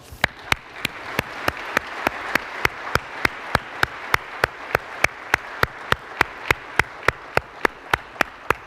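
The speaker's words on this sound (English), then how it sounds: "ladies and gentlemen, let's please give a round of applause" An audience at a U.S. Army fireside chat opening ceremony applauds. Soft steady clapping runs under a sharp, regular series of loud claps, evenly spaced about every third of a second.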